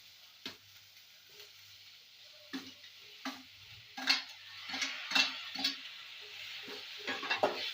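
Tomatoes dropped into a frying pan over softened onions and stirred, giving a series of soft scraping, clinking stirs against the pan with a light sizzle, growing busier toward the end, with no talking.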